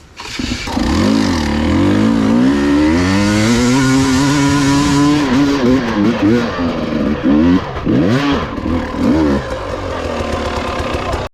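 A Husqvarna TE300i dirt bike engine fires up and revs hard, its pitch climbing and falling in repeated throttle blips while being ridden; voices speak over the loud, close two-stroke buzz.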